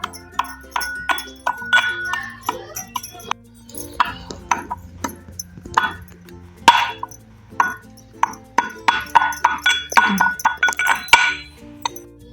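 Cumin seeds and salt pounded in a stone mortar, a steady run of sharp, close stone-on-stone knocks with a clinking edge, alone without talk.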